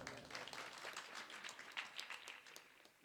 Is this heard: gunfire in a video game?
no